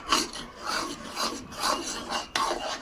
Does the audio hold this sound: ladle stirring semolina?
yes